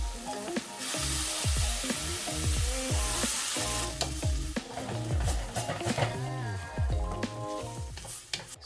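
Mushrooms and edamame sizzle steadily in a hot pan for a West African peanut sauce noodle dish, with repeated scraping stirs and clacks of a utensil against the pan throughout, close and loud, no voices.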